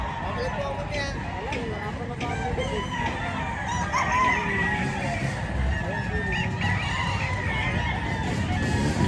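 Chickens and roosters fill a busy poultry market in Lipa, Batangas, with dense clucking and occasional crowing over constant crowd chatter and voices, loud and unbroken throughout.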